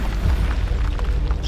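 A burst of boomy, crackling blast effect for the Incendio spell in a wizard duel, rumbling continuously low and loud for a second and a half, with repeated spell shouts in the scene around it.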